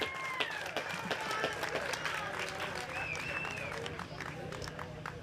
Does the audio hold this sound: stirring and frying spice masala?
no